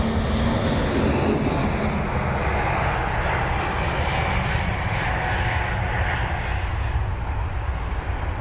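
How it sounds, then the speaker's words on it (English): A Lufthansa Airbus A320neo at Heathrow gives off a loud, sustained engine roar, close and unbroken, with a slight swell early on and no talking. "Got the Lufthansa 320neo."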